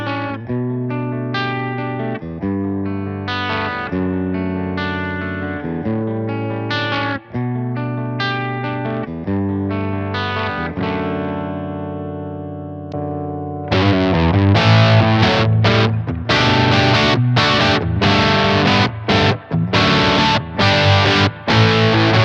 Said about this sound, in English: using the vintage cab sim selection and a transatlantic TA30 head with a Les Paul